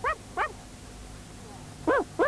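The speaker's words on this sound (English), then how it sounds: "You are a good dog, Noddy called." A cartoon dog in the 1975 Noddy series yaps four times in two pairs, short bright high-pitched barks that stand out clearly over a quiet background.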